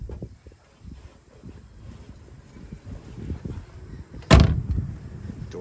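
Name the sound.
1966 Ford Mustang door shutting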